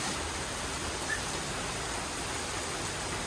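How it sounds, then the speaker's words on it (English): Heavy rain pours steadily and loudly outdoors, a dense continuous hiss with no other sounds standing out. "a lot of rain."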